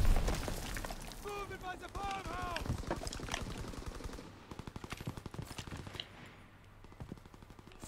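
Gunfire from a strafing fighter aircraft in a WW2 video game, heard as rapid bursts of shots followed by a long rattling string of rounds that fades under rumbling and a voice talking.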